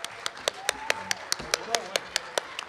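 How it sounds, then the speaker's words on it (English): Sparse, evenly spaced claps from a small group applauding Andrew at an ICON event, crisp and regular, with talking faintly underneath. "Let's give Andrew a round of applause."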